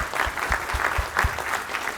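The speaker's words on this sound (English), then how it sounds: "Give yourself a round of applause" Audience applause at a college staff gathering, a brisk, fairly even burst of many hands clapping close by, with rhythmic sharp claps standing out.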